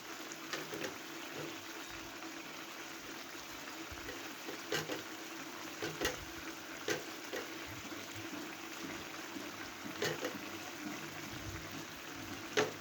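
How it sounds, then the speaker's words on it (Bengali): Boroli fish curry with potato and eggplant simmers in a pan, a faint, steady bubbling with soft irregular pops and spatters throughout. "এবার আমি মিনিট 5 ফুটিয়ে নেব"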